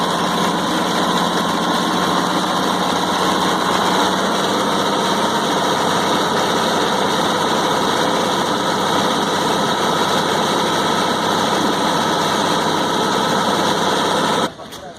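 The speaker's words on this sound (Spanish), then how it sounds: "aceleramos el motor" An engine on a lab test stand holds a loud, steady high-RPM roar with a constant buzzing drone that runs almost unbroken until it drops off abruptly at the very end.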